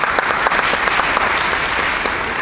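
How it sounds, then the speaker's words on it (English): A crowd at a parish annual meeting claps steadily, dense and continuous applause from a room full of people, without voices over it. "Let's give them a round of applause."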